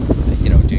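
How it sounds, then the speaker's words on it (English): Gusty outdoor wind buffets a phone microphone in a steady low rumble, loud and close, with no voices over it. "It's getting windy."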